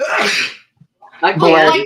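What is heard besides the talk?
sneeze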